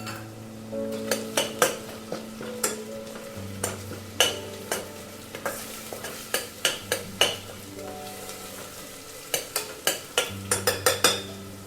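Ginger garlic paste and curry leaves fry in a pan for a vegetable biryani, a low sizzle under repeated sharp metallic clinks and scrapes of a spoon against the pan.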